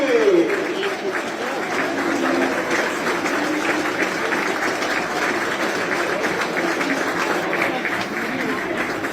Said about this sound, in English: well-deserved round of applause as he makes his way off here.